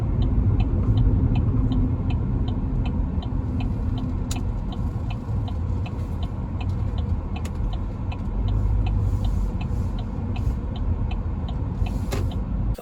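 Inside a moving car, a steady low engine and road rumble fills the cabin, with faint regular ticking on top and no talking.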